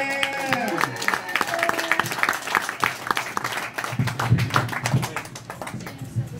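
Audience applause for a stand-up comedian at a comedy show, a steady patter of clapping with a voice speaking over it near the start.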